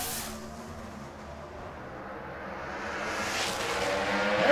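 A Pro Stock drag racing car runs at the Pomona drag strip during the NHRA Finals, a broad, roaring engine rush that holds steady, then swells louder toward the end as the car nears.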